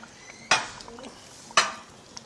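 A spoon stirring green onions into a pot of Lao chicken stew, two sharp metallic clanks against the pot about a second apart, close by, with quiet background between them.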